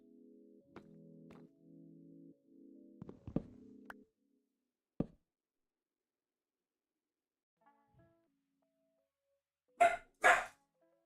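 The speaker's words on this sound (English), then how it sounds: "My dogs have been very barky recently, so if you hear my dogs, that is why." Domestic dogs barking indoors during a Minecraft building stream, a few sharp barks early on, then two loud close barks near the end, with tonal game sounds in the first seconds.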